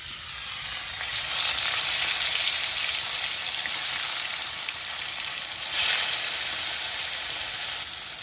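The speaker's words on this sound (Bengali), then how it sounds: "এখন মাছগুলা ভাজা লিয়াম।" Koi fish fry in hot oil in a wok, giving a dense, steady sizzle and crackle that holds throughout with slight surges in intensity.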